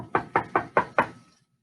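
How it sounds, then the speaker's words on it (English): Five firm knocks on a wooden cottage door, evenly spaced and close by, each a sharp thud that quickly fades, with silence after. "She tapped on the door."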